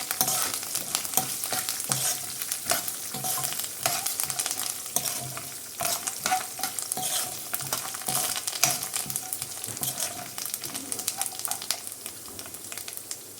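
Curry leaves fry in hot oil in a pan for gongura chutney, a steady close sizzle with frequent scraping and stirring clicks that continue throughout, with no talking.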